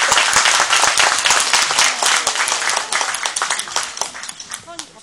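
Wedding guests fill the hall with a loud burst of applause, dense clapping that slowly thins and fades. An announcer's voice comes through near the end.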